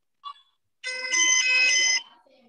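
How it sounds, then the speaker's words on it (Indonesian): An alarm rings nearby in a sustained, bright, harmonic tone lasting about a second, preceded by a brief chirp, with faint murmuring afterward. "Alarmnya sudah berbunyi."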